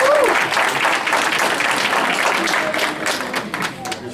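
Dense audience applause in an event hall, loud and continuous at first and thinning out toward the end, with voices mixed in underneath.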